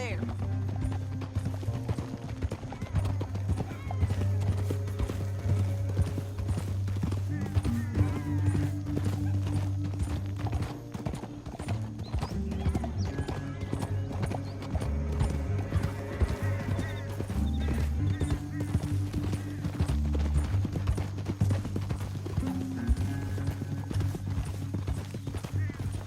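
Horses gallop in Red Dead Redemption 2 with a steady, rapid clip-clop of hooves throughout, joined by occasional neighs, a music score and voices talking over it.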